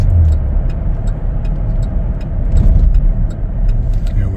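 A 2022 Chevrolet Traverse LT AWD on a test drive, heard as a steady low road and engine rumble from inside the cabin with faint ticking on top.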